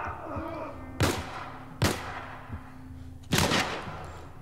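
Gunfire in The Last of Us Part 1, three separate sharp, loud shots spaced about a second or more apart, each with a short echoing tail over quiet background ambience.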